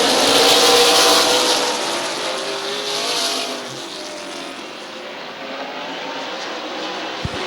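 Stock cars roar past at the Midvale Super Cup Series race, a loud engine drone that swells early then settles into a steady distant rumble as the pack circles the track.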